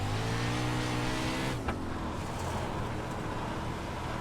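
Race car engine in iRacing, a steady loud drone with tonal whine that drops in pitch midway as the throttle is eased through an oil slick, then a rougher, noisier hum continues.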